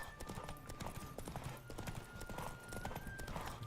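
Roach the horse trots in The Witcher 3, a brisk, even clip-clop of hooves heard close and continuous with a soft background tone.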